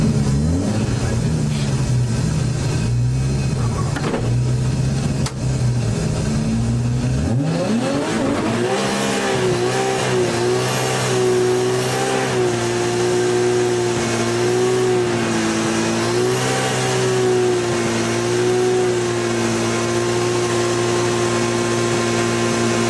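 A turbocharged C&Y Sports AE85 drag car making over 900 horsepower at a Sendai drag event holds a long, loud, continuous burnout, its engine droning at high revs with a rising pitch shift as the tires spin.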